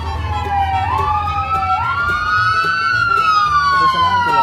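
Loud wailing police siren sweeping up and down in pitch, close by and continuous, with faint background noise.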